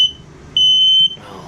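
A smoke detector alarm sounds one loud, steady high-pitched shriek lasting about half a second, standing out clearly against a quiet background.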